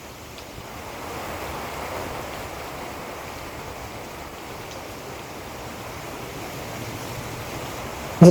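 Strong storm wind during Cyclone Remal in the Tangail area of central Bangladesh, a steady roaring broadband rush that holds loud and continuous throughout with no talk.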